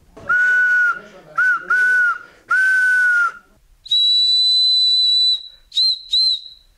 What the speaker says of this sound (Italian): in base alla, diciamo, alla costruzione del fischietto non tutti hanno il suono uguale